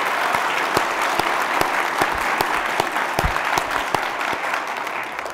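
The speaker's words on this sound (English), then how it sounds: "Please give them a huge round of applause" A large audience at an NBA Fit event in 2015 breaks into a loud, sustained round of applause, dense clapping filling the space from start to finish with no speech over it.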